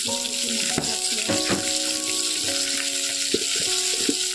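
Lai saak mustard greens frying with spices in oil in a home kitchen, with a steady sizzle running throughout and a few clinks and stirring knocks from the pan.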